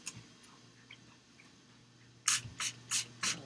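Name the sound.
spray bottle misting water onto watercolor paints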